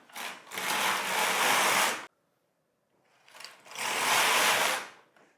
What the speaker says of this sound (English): I lay in my white yarn and I knit my first stripe